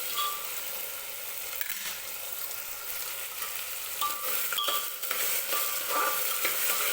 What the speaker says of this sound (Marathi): आणि शेंगदाणे हे सगळं व्यवस्थित तेलामध्येच परतून घ्यायचं आहे.